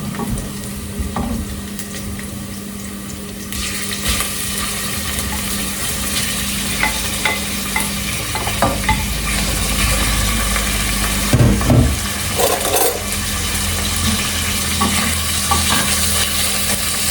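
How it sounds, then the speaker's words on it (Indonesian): Meat browning in a pan for a Slovak stew, a constant loud sizzle that swells once the meat goes in partway through, with occasional stirring scrapes and clatters close by. "saya masukin dagingnya"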